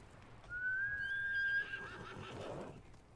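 A horse in the Ghost of Tsushima video game gives a single clear, high whinny lasting about a second, followed by a softer snort, over a quiet background.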